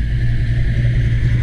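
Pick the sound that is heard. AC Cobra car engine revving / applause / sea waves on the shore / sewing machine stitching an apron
AC Cobra car engine revving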